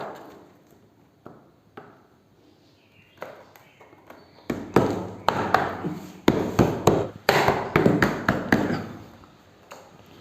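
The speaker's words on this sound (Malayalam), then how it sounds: "ഇതുപോലത്തെ ചെറിയ നേരിയ ആണി ഒന്ന് അടിച്ചു കൊടുക്കും" Small thin nails are driven into teak veneer paneling on a bedroom ceiling, a run of sharp close taps in quick irregular bursts after a few scattered knocks.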